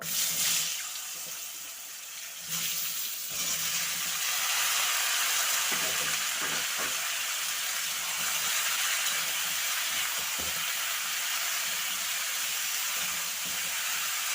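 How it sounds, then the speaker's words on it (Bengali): Mixed vegetables frying in oil with bay leaf, Bengali five-spice and a dried red chilli, a loud continuous sizzle with a brief splash as they go in and occasional stirring clicks. "তো এবারে সবজিগুলো দিয়ে দেব।"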